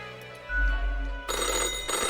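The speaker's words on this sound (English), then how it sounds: "the phone rings in an ear-piercing metallic clatter" A telephone in the game Death and Taxes breaks into a loud, harsh metallic ringing clatter after a low rumble, the bright jangling sustained to the end of the short clip.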